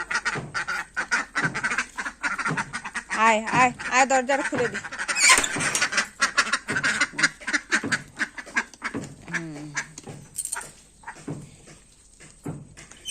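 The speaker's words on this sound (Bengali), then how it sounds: "হাঁসগুলো এসছে হাঁসগুলো ঢুকিয়ে দিই চো চো রে চো" A flock of ducks quacking loudly and repeatedly at close range as they are herded into a shed on a rainy day, with a person calling to them over the noisy, rhythmic quacks.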